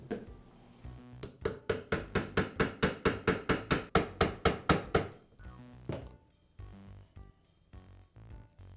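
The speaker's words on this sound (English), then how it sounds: "I'll place a punch on it and tap the armature away from the bearing." A punch struck repeatedly with a hammer to drive the armature of a Makita polisher out of its bearing: about eighteen quick, evenly spaced metallic taps, close and fairly loud, followed by a few scattered knocks and handling noise.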